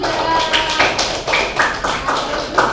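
A classroom group claps for group 3 during a microteaching lesson, giving a close burst of rhythmic, fairly even clapping with sharp taps in steady succession.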